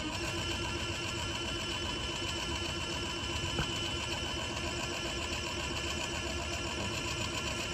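An electric valve actuator motor runs during calibration with a steady, close mechanical whir and hum that holds even throughout, alone without talking.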